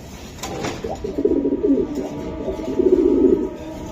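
Close-up cooing from racing pigeons, a few throaty rolling phrases swelling and fading across a few seconds, with a faint click near the start and no voices.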